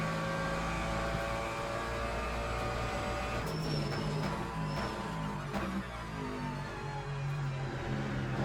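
A race car roars steadily through the Le Mans Ultimate racing game, a continuous engine drone with slight swells as it changes speed, heard alone without talk.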